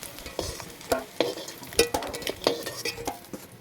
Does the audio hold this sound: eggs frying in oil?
yes